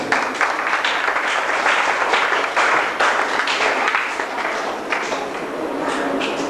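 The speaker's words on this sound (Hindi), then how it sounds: "ताली बजाओ जिनके।" Audience clapping at a spiritual discourse, a steady crowd applause of many hands that carries on for several seconds without talk over it.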